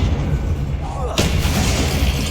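A Confringo fire-blast spell goes off in Hogwarts Legacy, a sharp burst that flares across the band partway through, then a sustained roaring blast layered over busy game ambience and low rumble.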